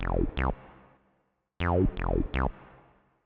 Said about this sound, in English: So then the next thing I will show you here is this 303